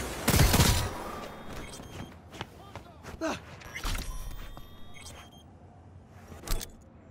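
A grenade explodes in Cyberpunk 2077 with a loud, close burst at the start, followed by scattered gunshots and impacts. Voices and game effects are mixed in, and another sharp shot comes near the end.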